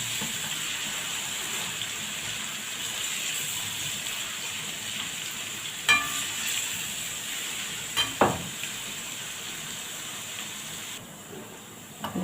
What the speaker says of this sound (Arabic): حطيت الزيت وهحط كمان الثوم اهو